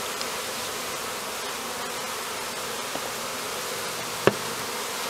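Honey bees coated in powdered sugar buzz steadily inside a jar during varroa mite monitoring, a dense continuous hum close to the microphone with a single faint tap near the end.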